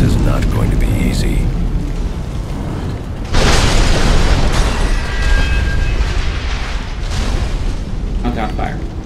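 Explosions and roaring fire on the collapsing Gotham Bridge in the video game Batman: Arkham Origins, a loud continuous rumbling blast texture with a sharper burst midway, while someone talks over it.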